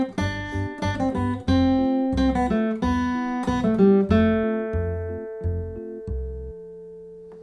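Bright plucked banjo notes play the B section of a tune, a quick run of picked phrases alone that slows and rings out at the end.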